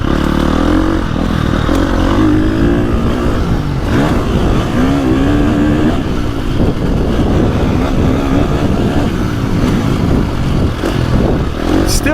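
A KTM 350 XC-F four-stroke dirt bike roars loud and close on a motocross GP track, its engine revving up and down through choppy sections with rising pitch sweeps, clattering and scraping under a continuous rough exhaust note.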